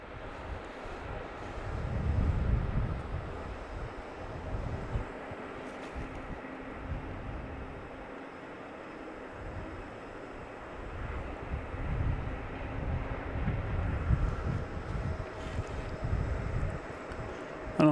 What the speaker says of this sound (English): Hear all this noise of engines starting up.